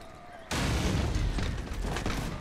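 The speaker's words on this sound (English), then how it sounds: "I hate cannons. I fucking hate cannons." Cannon fire in the Napoleonic-era Mount & Blade game with the L'aigle mod: a sudden loud booming blast after a faint moment, followed by a sustained rumbling roar of artillery and battle noise.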